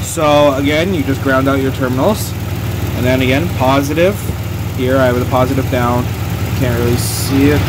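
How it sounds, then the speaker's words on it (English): A running car engine idles steadily during basic battery testing and inspection, a low continuous hum sitting beneath a man's close, continuous talking. "Sorry about the noise as we run the engine"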